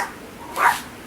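A dog gives a single short bark at moderate distance, brief and alone against a quiet background.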